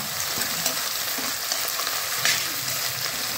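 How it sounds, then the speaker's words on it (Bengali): Carrot, beans and capsicum frying in a pan with a little salt, a steady close sizzle with light stirring scrapes throughout, no voices. "এবার আমি ক্যাপসিকাম দিয়ে দেবো"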